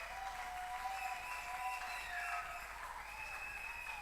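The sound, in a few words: congregation applauding in church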